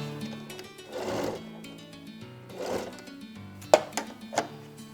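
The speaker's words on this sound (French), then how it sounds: "je peux continuer tranquille ma couture" A sewing machine stitching the fabric of a toiletry bag, running in two soft bursts of steady mechanical whirring, followed by a few sharp clicks and light handling sounds.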